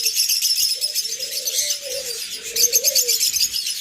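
A lutino opaline breeding pair of birds gives repeated soft, close coos in short phrases, layered over a constant backdrop of high chirping from other caged birds.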